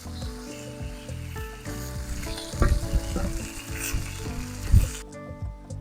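Onions and lamb sizzle loudly on a hot saj pan, with a steady frying crackle and occasional clanks of utensils stirring, cutting off abruptly near the end.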